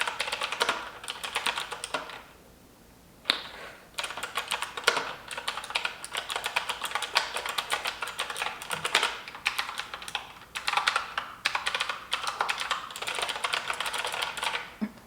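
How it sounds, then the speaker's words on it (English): Steady typing on a computer keyboard at close range, a dense run of quick clicky keystrokes with a brief pause near the start and occasional short breaks, no voices. "I'm gonna be typing away."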